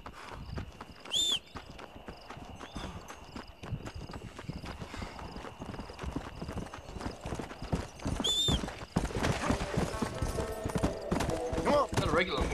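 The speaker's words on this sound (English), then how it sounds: "Not a regular horse, what happens to my undead horse?" An undead horse gallops in the Red Dead Redemption Undead Nightmare game, steady clip-clopping hooves with occasional whinnies, while a player talks throughout and the hoofbeats grow louder near the end.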